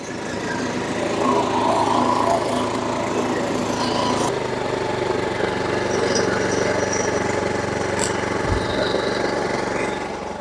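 Petrol lawn mower engine, recently hydrolocked with oil and now repaired, idling steadily and loud up close with a continuous droning hum and a brief dip near the end.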